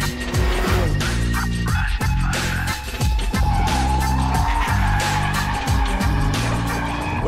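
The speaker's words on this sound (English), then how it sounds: "Finally, limit handling in the M3 in the dry." A 2015 BMW M3 driven hard at the limit on a dry track, its engine roaring loud and continuous while the tires squeal and skid in repeated bursts through the corners.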